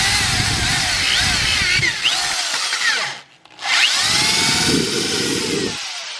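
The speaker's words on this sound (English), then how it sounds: "So we'll take this, drill a hole right in the center." A power drill whines steadily into a hard plastic plug, cutting out briefly for a moment of near silence, then grinding back up to full speed.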